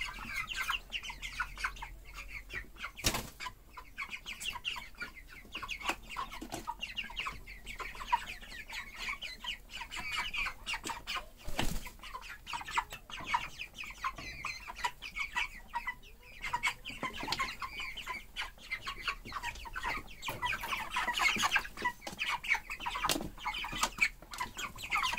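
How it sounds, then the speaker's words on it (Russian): Chickens cluck steadily at close range as they are fed porcini mushrooms, with continuous overlapping clucks and chirps filling the whole stretch without a break. "Кормим куриц белыми грибами."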